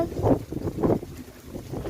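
Strong wind buffets the microphone in rough, rumbling gusts that swell and ease in waves, loud and close throughout.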